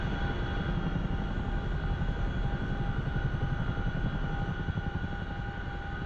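In the DCS World flight simulator, an aircraft's engines rev up steadily as the propellers spin up in flight mode, making a continuous loud droning whir with no speech.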